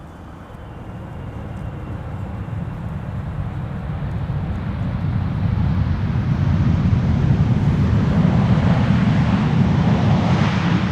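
A KLM airliner that is 16 years old, first flown in January 2008, lands at Schiphol Airport after a flight from Johannesburg. Its broad roar swells steadily louder as it approaches, and no voices are heard.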